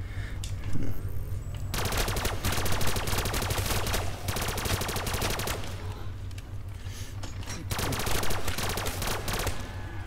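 Sustained rapid gunfire from an MW3 weapon in a Minecraft zombies mode, dense automatic bursts running nearly continuously and loud over a low steady rumble, with only a brief lull near the start.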